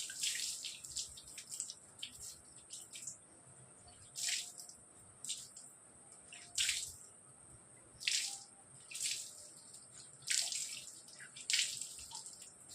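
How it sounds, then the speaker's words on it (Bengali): Water is sprinkled by hand onto a bicycle outdoors, giving soft repeated splashes and spatters in irregular bursts against a quiet background, with no talking. "একটু জলটা ছড়িয়ে দেবো এই সাইকেলে।"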